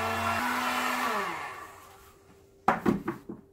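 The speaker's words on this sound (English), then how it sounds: "put my heat gun to it" Heat gun blowing hot air over wet purple acrylic puddle-pour paint, a steady loud whoosh that fades out, followed by a few sharp knocks and clatters near the end.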